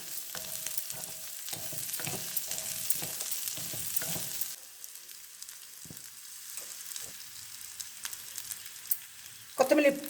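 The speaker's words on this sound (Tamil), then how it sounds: "இனி கொஞ்சம் வறுக்கணும்." Fish curry masala frying in a pan, a steady close sizzle with clinks of stirring in the first half, then a quieter, fainter sizzle continuing alone.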